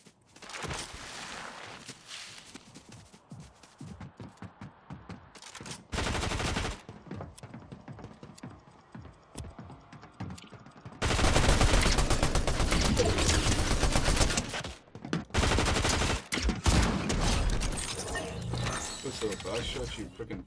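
Rapid game gunfire in Fortnite Zero Build battle royale, several loud bursts of automatic shots crackling in clusters, with a long dense volley in the middle and shorter bursts after, mixed with other game sounds.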